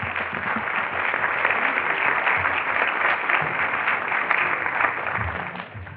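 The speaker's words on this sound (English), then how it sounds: "let's give a round of applause for Dean Reyes Aguilar" An audience applauds a speaker at a leadership day opening session, a steady dense wash of clapping from many hands that holds for several seconds before tapering slightly at the end.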